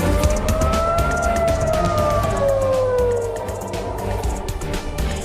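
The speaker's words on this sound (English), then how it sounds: "What you're hearing there is air sirens in Israel warning of another Iranian missile" Air raid sirens in Israel warn of incoming Iranian missiles with a loud, sustained wailing tone that slowly rises and falls, heard alone over a low rumble.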